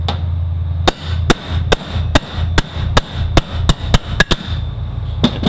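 Sharp metal hammer blows drive a bushing out of the front of a Ford 4R44E/5R55E transmission pump, about a dozen distinct strikes in an uneven rhythm, close and loud over a steady workshop hum.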